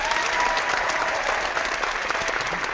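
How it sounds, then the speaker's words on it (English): Steady, dense applause from a live panel-show audience, loud and close, continuing evenly for the whole stretch with no voices on top. "I'm just going to give you all a round of applause."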